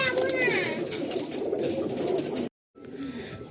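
Pigeons in a pigeon loft coo and rustle steadily for about two and a half seconds, close and fairly loud, then a brief silence before the flock sounds resume more faintly.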